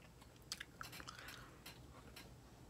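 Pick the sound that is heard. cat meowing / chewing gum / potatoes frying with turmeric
chewing gum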